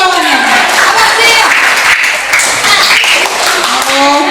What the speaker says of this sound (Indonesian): tepuk tangan dulu kawannya